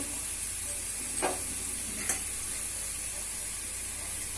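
Onions fry in hot oil in a pan, giving a steady sizzling hiss with a couple of brief louder crackles, close and even, with no talking.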